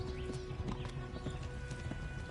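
Horse hooves clip-clop steadily in Kingdom Come: Deliverance, a quick, even rhythm under a dense wash of battle ambience and game noise.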